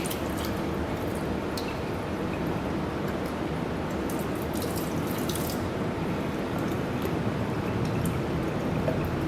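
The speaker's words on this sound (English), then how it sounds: "So you should wash your measuring cylinder with tap water followed by distilled water." Tap water runs steadily over a measuring cylinder, with a continuous splashing wash and faint drips throughout.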